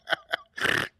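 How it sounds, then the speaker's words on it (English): A comic fart sound effect: two short, close blurts and then a longer, louder rasping one, with another short blurt starting at the end. "fart sounds are the proper way to commemorate this"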